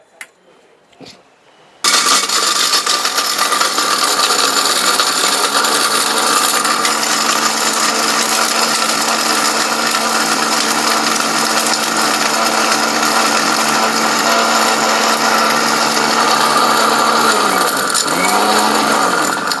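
A kitchen blender crushes a glass mug. After a brief near-silent moment with a couple of clicks, the motor kicks in abruptly with a loud, steady grinding roar that holds unbroken for about seventeen seconds.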